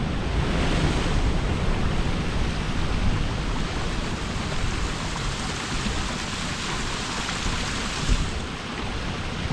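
Steady roar of big ocean surf crashing and washing continuously against the shore 15 to 20 feet below, loud and close, with wind rushing across the microphone and no voices.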